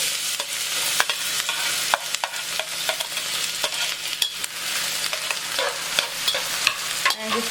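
Onions and garlic fry in a little oil in a preheated pan, a dense continuous sizzle crackling close up with frequent small pops and occasional spatula stirs, and no voices.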